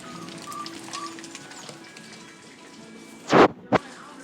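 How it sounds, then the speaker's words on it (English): Steady soft hiss of rain on a thunderstormy spring day, with faint bird calls in the background and two short loud knocks close by near the end. "It's a rainy, thunderstormy"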